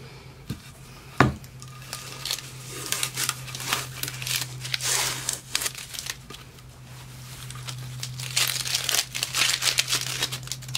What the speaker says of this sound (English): You pull all your tape off.